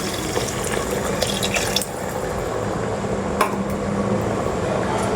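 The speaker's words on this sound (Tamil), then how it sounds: "இப்போ நம்ம ஒரு கிளாஸு புளி தண்ணி ஊற்றிக்கிறேன்." Tamarind water poured from a glass into a cooker pot for village-style puli pongal, a steady continuous splashing pour of liquid with a few brief clinks, close and alone.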